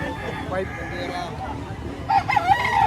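A rooster at a busy chicken auction market in Lipa crows loudly near the end of the clip, with other fowl clucking and people talking throughout.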